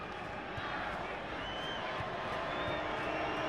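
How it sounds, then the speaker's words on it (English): Arena crowd at a college basketball game, Montana State at Arizona, swelling into a loud, steady roar of noise while a free throw is taken, with commentary voices over it. "Crowd getting loud. They're feisty. They don't like it."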